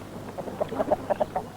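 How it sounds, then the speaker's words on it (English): Free-range chickens cluck on a commune farm, a quick run of short, close clucks and chatters, clear and alone over a faint background hum. "The chickens, of course, are free range."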